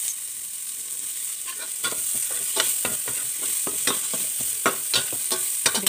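Pork, ginger, garlic and onion sauté in a pan with a continuous close sizzle, broken by repeated scraping and stirring strokes that clatter irregularly throughout.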